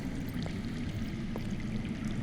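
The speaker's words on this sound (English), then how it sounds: "I hear water. From underground." Underground water flowing in the Game of Thrones Telltale video game, a steady, continuous rushing pour heard at even loudness throughout, with no speech over it.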